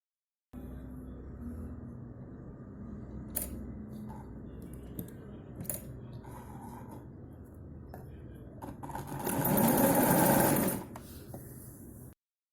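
A sewing machine stitches a binding strip onto a kurti with a steady low whir and scattered clicks, then runs in a louder, faster burst near the end before stopping.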